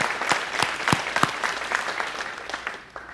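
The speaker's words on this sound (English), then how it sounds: "let's just give a heart-warm, big round of applause for Dr. Petrie, for Reverend Karen," Audience applause fills a room after a call to thank musicians, ushers and a reverend at a gathering, a dense steady wash of clapping with a few sharp near claps standing out, tapering slightly toward the end.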